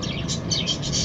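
Pigeon calls sound close up in quick, soft, warbling bursts for about a second, with no talking.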